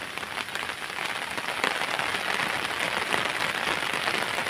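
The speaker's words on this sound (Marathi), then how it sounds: "पाऊस सुरू झाल्यापासून पाऊस मस्तपैकी पडत आहे." Heavy monsoon rain pours steadily over farm fields at planting time, a dense, even hiss of drops with no voices.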